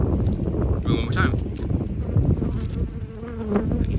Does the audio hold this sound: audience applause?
no